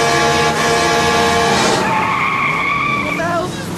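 A truck and a car skid on the road in a Jeepers Creepers horror film chase, giving a loud, sustained tyre squeal that shifts pitch as the vehicles manoeuvre, with engine roar underneath.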